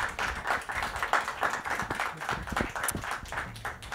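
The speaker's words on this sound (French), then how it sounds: "on peut quand même applaudir et remercier nos invités" Audience clapping at a literary round-table discussion in an uneven, pulsing wash, moderately close, with no talking over it.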